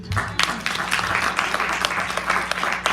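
Church congregation applauding together, a dense crowd of hand claps rising quickly and continuing steadily for a few seconds, fairly loud and reverberant, with scattered voices mixed into the clapping.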